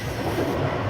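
A train rattling along on a journey home, a faint, steady rumble of rolling wheels with soft clicking, heard alone over about a second.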